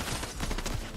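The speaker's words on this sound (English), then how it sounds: "Is that the AI shooting at me?" Rapid burst of AI gunfire in Fortnite, a dense rattling fusillade filling the moment, loud and close.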